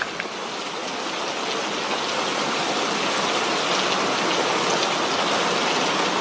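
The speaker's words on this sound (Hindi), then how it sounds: "बारिश बहुत तेज हो गई है।" Heavy rain pours steadily at night outside an old, isolated hut, a dense, continuous roar of drops on surfaces that stays loud and even throughout.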